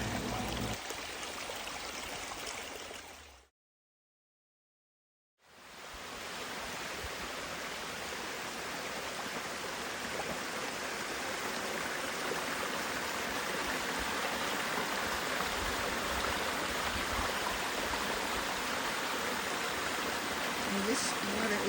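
Mountain stream water gushing steadily along a trail water source, a loud, continuous broadband rush heard up close, briefly cut to silence early on before the same dense flow resumes.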